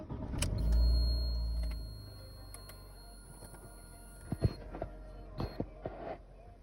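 A 2014 Fiat 500L turns over and starts with a brief low rumble near the beginning, then settles into a quiet idle broken by several sharp clicks and ticks.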